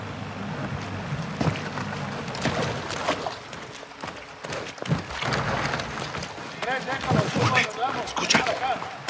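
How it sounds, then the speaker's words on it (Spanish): A cartel motorboat in Call of Duty: Modern Warfare II at the US–Mexico border, its engine a steady drone beneath frequent voices and bursts of game effects. "Esa es su lancha."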